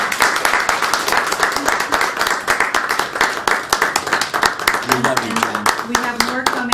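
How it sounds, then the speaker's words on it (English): A short round of clapping from a memorial gathering crowd, the individual claps sharp and distinct in a loose rhythm, with a voice speaking over the latter part. "I want everybody to give Jon a round of applause, a short one,"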